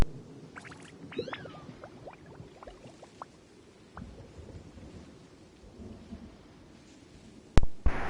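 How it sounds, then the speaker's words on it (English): Heavy rain drums steadily outside a window while low thunder rumbles, with scattered drip and tapping sounds and one loud sharp crack near the end. "This rain is loud as heck."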